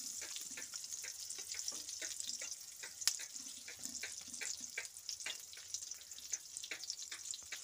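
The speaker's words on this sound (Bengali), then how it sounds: "বেগুন কটাকে হালকা করে ভেজে নেওয়া হবে।" Eggplant pieces lightly frying in oil, a soft, fairly faint hiss with small crackles and a few light clicks, no talk.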